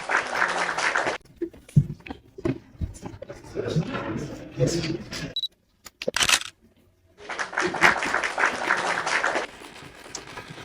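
Conference attendees in Poznan applaud a gift recipient in brief, uneven bursts of clapping separated by gaps and quiet stretches, with talking in between.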